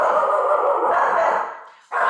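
A dog whines and whimpers in a high, drawn-out cry, close and loud, that fades and then picks up again in a sharp yelp-like burst.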